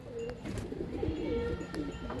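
Pigeons coo softly in a well-kept loft in Pandharpur, low throaty calls repeating through a brief stretch with faint background movement.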